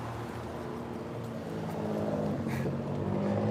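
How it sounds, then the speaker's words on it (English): Car engine drawing closer from behind, a low steady rumble that grows gradually louder across the few seconds, heard alone with no talking. "I hear a car coming behind me approximately right now."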